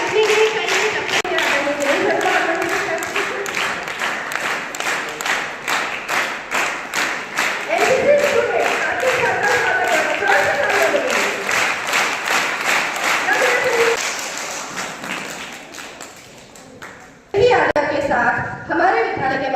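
A school career fair audience claps together in a loud, rhythmic beat that slowly fades out, followed by a short burst of talk at the end.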